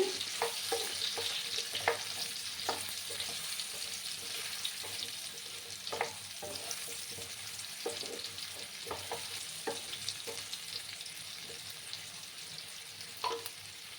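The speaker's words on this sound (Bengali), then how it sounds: "আবার আমি নাড়াচাড়া করে দিলাম। মাঝে মাঝে নাড়াচাড়া করে দিতে হবে।" Pumpkin and potato pieces frying in a pan over a medium gas flame, a steady sizzle broken by scattered clicks and scrapes of a spatula stirring, quiet and close, with no talking.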